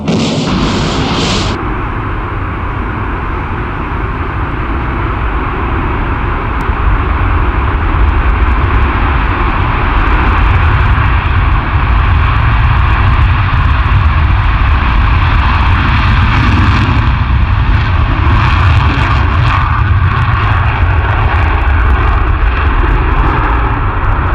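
An aircraft flies overhead, a loud, sustained engine roar with a broad rumble that holds steady for over twenty seconds, with no voices.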